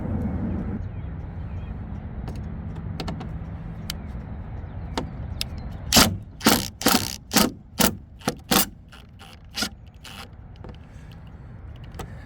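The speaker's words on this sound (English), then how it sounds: "take out these two screws right here, and then I'll be good to go" A tool works on the screws of a side marker light on a Freightliner Cascadia truck, giving a quick run of about eight sharp rasping bursts in a row, close and loud, after faint scattered clicks over a low background rumble.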